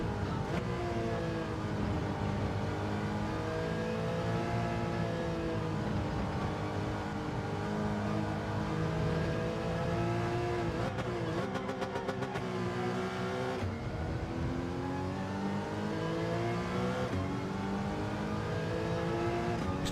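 A McLaren race car engine in a racing video game howls continuously as it accelerates, pitch climbing through the gears with brief drops at shifts, loud and steady throughout without any talking.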